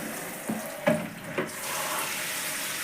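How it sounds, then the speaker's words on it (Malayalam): Water being poured into a pot while cooking jackfruit curry: a short, close splashing pour with a few distinct gushes over a steady background hiss. "കുറച്ച് വെള്ളം ഒഴിച്ചു കൊടുക്കാം."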